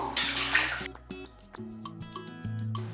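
Water poured into a cooking pot of mixed-vegetable sambar, a splashing rush at first that gives way to clinks and rattles of pot and utensils.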